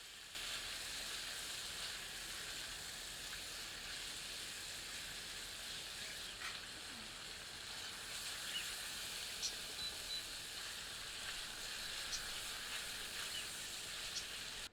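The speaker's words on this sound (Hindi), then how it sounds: "सबको मिलाकर मध्यम आंच पर 2 मिनट भूनते हैं।" Pumpkin pieces with ground cumin and turmeric frying in a pan over medium heat, giving a steady, even sizzle and hiss throughout with a few faint clinks, no one talking.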